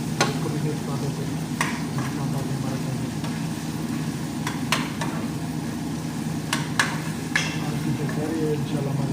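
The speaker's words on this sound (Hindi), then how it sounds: "अदरक को भूनेंगे, उसके अंदर सब्जी डालेंगे, इसको भी मिक्स कर देते हैं।" Ginger and mixed vegetables stir-fry in a pan with a steady broadband sizzle, sharp utensil scrapes and clinks landing irregularly throughout, with a low hum underneath.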